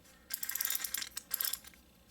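A burst of rapid metallic clicking and ratcheting from a flashlight's zoom mechanism, two quick runs close to the microphone, with quiet between.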